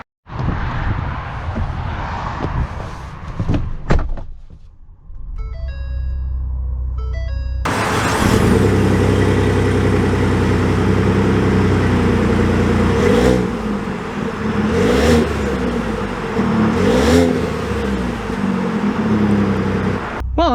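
A Ford F-150 Black Widow truck with a 3.5L EcoBoost V6 starts up after a few clicks and chimes, then its engine settles into a steady, loud running drone with occasional swells as it pulls away.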